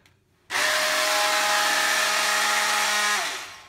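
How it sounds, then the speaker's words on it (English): A corded reciprocating saw, used for cutting into sheetrock, switches on abruptly and buzzes loudly and steadily at close range for under three seconds before winding down. "You want to use a small or reciprocating saw like this."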